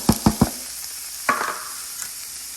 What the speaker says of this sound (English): While those eggs are cooking, I'm gonna go in with my Holy Trinity right here